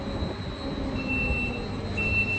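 A long train in Hungary rolls steadily along, a continuous low rumble of wheels and carriages with faint high squealing tones, heard close by and without talking.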